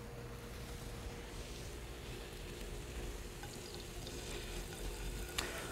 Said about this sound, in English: I'm going to brown my sirloin in another pan with a little bit of oil. This is going to sizzle and smell great.